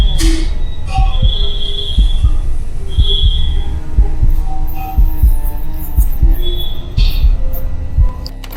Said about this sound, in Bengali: নিজের হৃৎপিণ্ডের ধুকপুকানি স্পষ্ট শুনতে পাচ্ছিলাম।